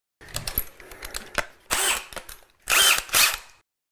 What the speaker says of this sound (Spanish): Estamos buscando un agujero que sea más ancho que el tornillo